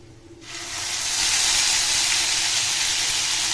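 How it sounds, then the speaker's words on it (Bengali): Onion, ginger and garlic paste hits hot oil in a pan and bursts into a loud, steady sizzling hiss that swells within a second and holds, close and continuous with no talking. "তখন এতে দেবে পেঁয়াজ, আদা, রসুন বাটা।"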